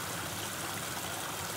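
Water flowing in a stream makes a continuous dense rushing hiss, loud and even throughout with no pauses or voices.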